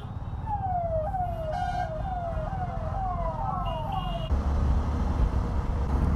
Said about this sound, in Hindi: ये वाला सायरन मुझे भी लगवाना पड़ेगा, इसको सुन के लोग जल्दी निकलते हैं